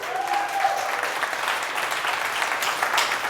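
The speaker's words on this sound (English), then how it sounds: "give him a round of applause" Audience applause at a powerlifting seminar in the Barbell Brigade gym, a crowd clapping steadily and fairly close for the full few seconds, with a brief whistle-like tone near the start.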